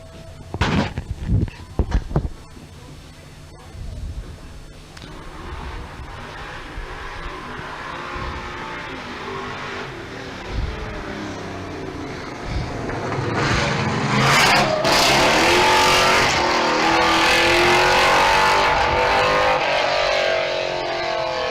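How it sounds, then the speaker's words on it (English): Race car at the Leyburn Sprints hillclimb event, engine revving hard and growing louder and harsher toward the end, with sharp bursts early on and a sustained loud roar in the second half. "If you think that car sounds a bit cranky and a bit angry, he's going to get very cranky and very angry at the moment."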